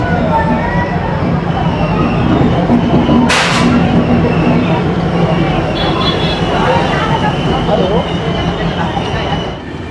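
The Hampi Express departs platform eight at KSR Bengaluru station, with a steady carriage rumble and a brief sharp burst of noise, heard under a person speaking throughout.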